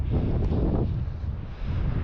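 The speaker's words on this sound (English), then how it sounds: "It's too windy out here." Strong, steady wind on the North Sea coast of Scotland buffets the microphone in a continuous low roar, loud and unbroken throughout, with no voices.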